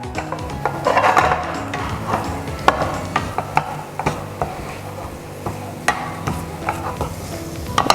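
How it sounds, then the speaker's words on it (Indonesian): A spoon stirs a boiling pot of food over a low flame in a home kitchen, with steady scraping and bubbling and occasional sharp clinks against the pot, close and continuous for the whole stretch. "Kita aduk."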